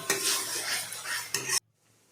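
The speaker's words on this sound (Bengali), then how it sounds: "দিয়ে ভালো করে নাড়াচাড়া করলাম" A spoon scrapes and stirs steadily through rita fish curry with turmeric in a pan, a close, busy clatter of utensil on metal that stops abruptly near the end.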